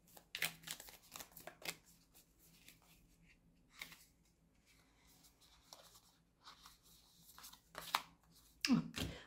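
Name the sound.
shuffling oracle cards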